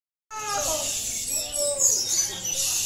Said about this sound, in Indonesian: burungnya juga gacor